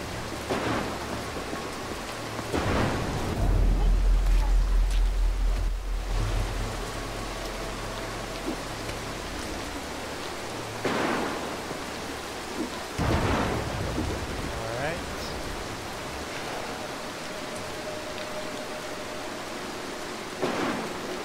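Thunderstorm in the Mark of the Ninja video game: steady rain pours throughout while several loud thunder rumbles roll in at intervals, the longest early on.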